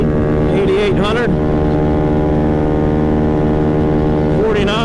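A modified 50cc Maddog scooter engine screams at high RPM in a loud, steady drone with a dense harmonic whine, holding near-constant pitch throughout. A voice talks over it briefly near the start and again at the end.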